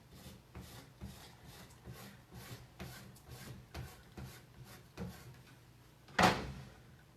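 Black wax being rubbed into wooden furniture by hand, a soft, steady rhythmic scrubbing in repeated strokes at close range, ending in a brief louder scrape or knock.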